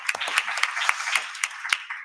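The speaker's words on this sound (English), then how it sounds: "Please, big applause for you." Sparse, evenly spaced hand claps, apparently from only a few people, close by and fairly quiet, closing out a talk on AI and the European Union economy.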